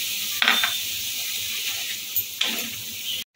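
Potatoes and spices cook in a pan for a Bengali paneer kosha, splashed with a little water, giving a soft continuous sizzle broken by two brief scraping stirs.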